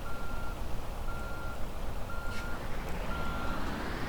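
A Wentward D40L bus reverses in BeamNG drive, its backup alarm sounding a regular series of long steady beeps over a loud, low engine drone, with no talk.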